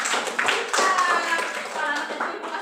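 A group performs a rhythmic star clap during an educational session, a quick run of bright patterned claps, fairly close and moderately loud, with a voice talking over it.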